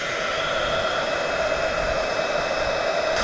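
A heat gun blows a loud, steady hiss of hot air close by while wiring is heated during an electrical install in a Transit Custom camper van conversion.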